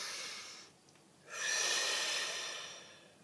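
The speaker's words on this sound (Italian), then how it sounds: "Facciamo un bel respiro profondo." One slow, deep breath is drawn in before a tarot card reading: a soft airy exhale fades, a brief pause follows, then a long close inhale swells and tapers off quietly.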